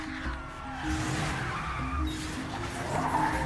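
A car skids with a sustained tire squeal in an Alex Cross movie scene, the screech and engine rumble running loud and continuous without speech.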